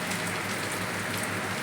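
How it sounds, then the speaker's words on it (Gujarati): Steady rain falling on farmland, a dense even hiss with pattering drops, loud and continuous throughout with no voices. "જો અમે વરસાદ વરસે છે"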